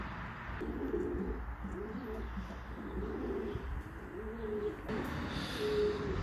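A pigeon coos in repeated soft, throaty phrases, several rounds in a row, over a faint background hum.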